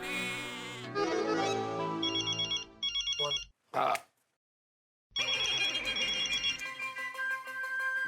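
A phone ringtone plays a bright electronic melody, cuts out briefly to near silence, then resumes and keeps ringing.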